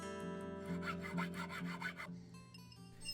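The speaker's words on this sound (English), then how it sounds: "I begin to remove the excess metal, starting with the inside of the shank." Excess metal is filed away from the inside of a ring shank at a jeweler's bench, a quiet, close rasping stroke repeated in a quick steady rhythm for about two seconds before it stops, leaving a soft background hum.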